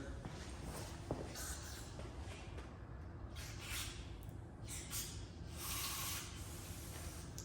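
Bursts of compressed air from an air compressor blowing out a Yamaha Blaster carburetor hiss and sputter in uneven blasts over a steady background rush, fairly faint and close.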